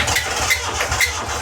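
An old car engine, its owner's dream car, running after being given starter fluid, a steady loud rumbling idle with rhythmic pulses, no voices over it.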